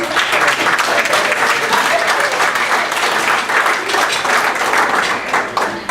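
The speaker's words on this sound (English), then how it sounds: "So one more round of applause, please." A Lions Club audience applauds award nominees at an officers' installation, dense continuous clapping from a room full of people sustained evenly from start to finish.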